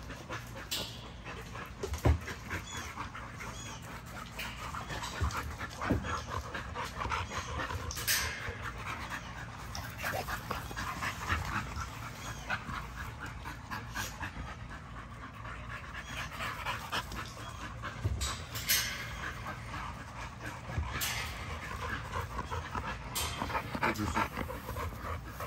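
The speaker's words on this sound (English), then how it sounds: "I'm just hanging out with my dogs" Two dogs pant steadily while playing and jumping around together, with occasional soft whimpers and brief yips over a continuous close breathy texture throughout.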